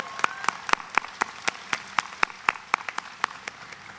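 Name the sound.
audience applause for first-generation graduates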